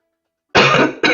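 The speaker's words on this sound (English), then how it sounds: "And yes, I am still coughing." After a moment of silence, two harsh coughs sound close by: one long rough cough and then a shorter one.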